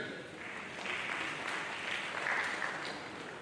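Moderate applause from an audience at an academic event on food and nutritional security, a continuous ripple of clapping that swells slightly midway.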